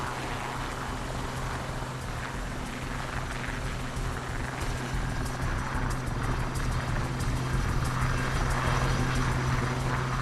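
A helicopter lifts off from a ship's flight deck, its rotor and engine producing a steady, loud, broadband roar that holds throughout and swells slightly toward the end.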